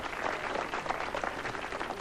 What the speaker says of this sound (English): give them a round of applause because they do great work for the kids